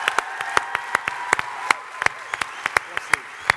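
Audience applause at the One Young World 2011 summit: a dense wash of many hands clapping, steady and sustained, with sharp individual claps standing out near the front and faint voices underneath.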